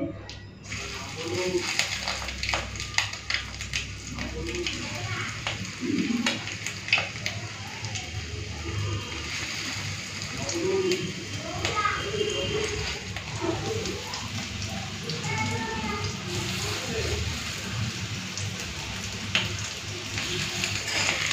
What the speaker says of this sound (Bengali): মাছের তেলের বড়া ভাজা হবে আজকে